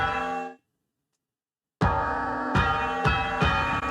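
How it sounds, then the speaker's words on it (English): Bell impact effect from the video game Death's Door, played when the castle gets struck by damage, layering a dull donk with a kick-drum thud: a short ringing tone, then silence, then a run of repeated loud metallic bell hits. "Next up is the bell impact. So this is anytime that the castle gets smacked."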